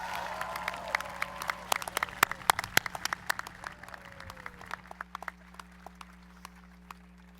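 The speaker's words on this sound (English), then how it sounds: "please give another round of applause to our second Outstanding Senior, Tali Yang" Scattered applause from a modest audience at a 2014 graduation ceremony, individual claps crisp and close, thinning out and tapering off toward the end over a steady hum.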